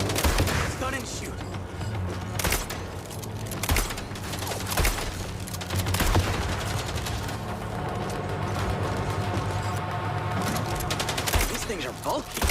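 Gunfire and mechanical combat noise in the MindsEye action game, with repeated sharp shots and clanking scattered over a steady background, and a voice speaking at times.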